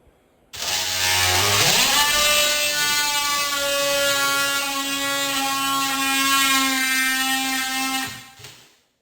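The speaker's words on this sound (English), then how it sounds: "I'm going to cut this right now with this oscillating tool" An oscillating multi-tool cutting during a door installation, starting with a sharp whine that rises in pitch and then holds as a loud, steady buzzing drone for about seven seconds before winding down.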